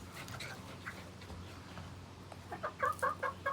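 Chickens cluck in a short burst of repeated calls near the end, over a low steady hum and faint background noise.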